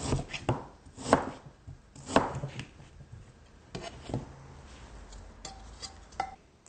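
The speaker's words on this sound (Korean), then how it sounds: "배는요, 이렇게 납작하게 이렇게 썰어 넣으면 됩니다." A knife cuts pear into thin, flat slices, a run of crisp, close cuts on a board with short pauses and light clinks in between, no voices.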